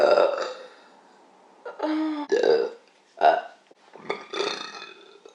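Several loud, close burps as a sound effect, coming in irregular bursts: a long guttural one, a second throaty belch, a short sharp one, then a longer drawn-out burp.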